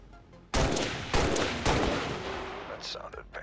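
Gunfire in the video game XCOM 2: three loud, sharp shots about half a second apart, each followed by a long booming decay, then a faint voice near the end.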